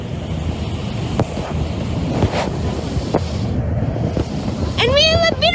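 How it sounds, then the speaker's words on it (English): Harbour water sloshes and washes steadily under wind buffeting the microphone aboard a ferry running from Circular Quay to Kirribilli, with a few short knocks and a brief high warbling sound near the end. "See the waves going."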